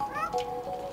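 A cat gives a short, clear meow with a rising then falling pitch in the Stray video game, close and moderately loud.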